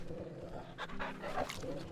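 A puppy in the video game Final Fantasy XVI panting in quick, soft, close breaths over low background game sound.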